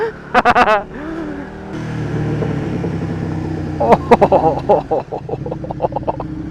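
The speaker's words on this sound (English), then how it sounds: "Oh, the sound of the bike off those rocks." A KTM 1390 Super Duke R Evo motorcycle engine revs and idles nearby, echoing off rocks by a reservoir with a reverberant tone, while a rider's voice briefly speaks over it.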